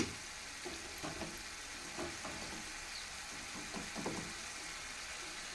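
Half a kilo of ridge gourd cooks down in a pan for curry, giving a soft, steady sizzle with faint intermittent stirring scrapes, quiet and close.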